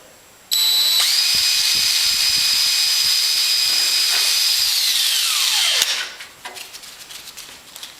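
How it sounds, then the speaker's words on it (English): A power drill drilling a hole in an aircraft wing leading-edge end rib whines at a steady high pitch for about five seconds, then spins down as the trigger is released, leaving faint clatter. "And then I'll drill it."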